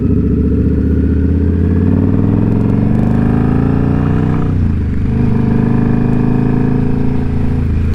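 A motorcycle rides along a road through King City in autumn, its engine a loud, close, continuous drone with rising and falling rev tones and a brief dip midway as it shifts, with wind rush and no talk.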